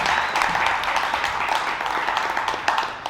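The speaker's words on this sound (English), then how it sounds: "give a round of applause for our Spaniards." An event audience claps for supporters, a lively burst of fairly close, uneven applause with individual sharp claps that thins out toward the end.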